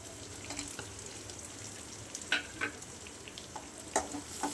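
Chopped large onions sizzle and fry in a pan for a fish 65 gravy, with steady frying hiss broken by several scraping clicks of stirring, close and clear with no talking.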